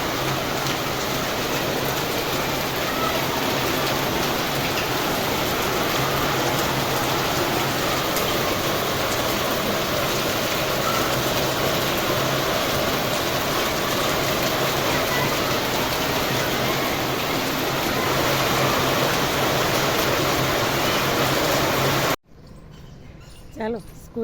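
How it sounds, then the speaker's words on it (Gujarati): Heavy rain pours steadily in a village in Gujarat, a dense, loud, unbroken hiss that runs for about twenty-two seconds and then stops abruptly, leaving near silence with a faint voice and a couple of small knocks. "વાહ, વરસાદ એટલે વરસાદ."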